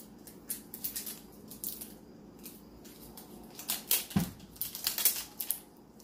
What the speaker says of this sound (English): First, we're going to unwrap the body of this.